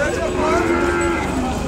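Calf lowing at an Ongole cattle market in Kodada, a steady loud moo held across the moment with market bustle underneath.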